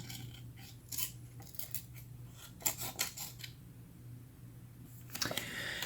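A knife edge slices paper in repeated faint, raspy strokes over a low steady hum, with a brief pause midway before a final cut.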